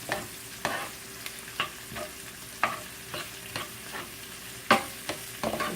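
Food sizzles and crackles in a pot, with scattered stirring clatters and scrapes recurring every second or so, close by and moderately loud.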